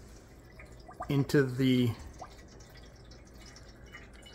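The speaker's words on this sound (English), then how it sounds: "open the upper lid, pour the 2 liters of water" Two liters of water pour into the upper reservoir of a Bunn CWTF15 APS coffee maker, a steady, soft splashing hiss beneath a brief spoken phrase.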